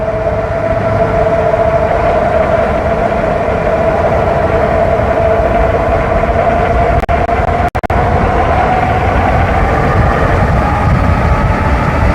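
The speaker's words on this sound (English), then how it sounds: "I hear the train just passed" At night in Henry County, Georgia, a train passes with a loud, steady rumble and a sustained tonal drone under heavy rushing noise from a moving bike.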